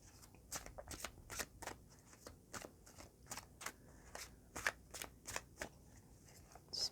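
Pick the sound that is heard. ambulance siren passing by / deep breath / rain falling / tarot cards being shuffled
tarot cards being shuffled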